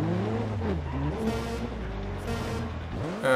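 An old school BMW races in the video game Grid 2, its engine roaring loud and close with shifting pitch as it climbs and drops through gears, a brief skid near the end.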